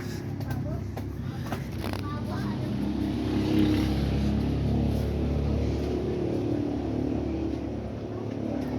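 A Toyota Innova engine runs after an oil change with a steady low rumble that rises slightly midway, and faint voices can be heard underneath.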